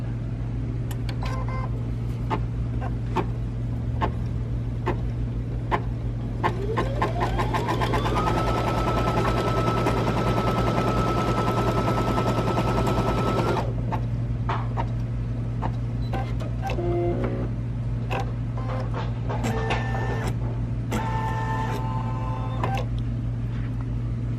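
An embroidery machine stitches the placement line for a pocket lining on a Christmas advent calendar, with a steady loud mechanical whir and rapid needle chatter over a constant motor hum and no voices.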